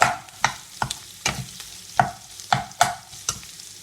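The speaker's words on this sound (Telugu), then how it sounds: "అలాగే మన టేస్ట్ తగినంత సాల్ట్ వేసి బాగా స్మాష్ చేసుకోవాలన్నమాట." A spoon smashes potato curry with turmeric and salt in a hot pan, giving about eight sharp, regular scraping knocks over a faint sizzle, close by and with no voices.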